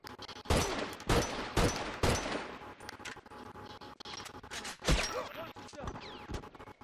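Gunfire in The Last of Us multiplayer, with loud, sharp shots and short bursts in the first half and scattered, fainter shots later.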